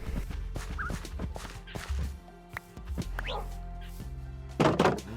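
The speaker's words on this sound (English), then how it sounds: "managed to hatch a chicken" Chickens and farm activity in Minecraft, a mix of short clucks, thuds and game effects, with a louder burst of sound near the end.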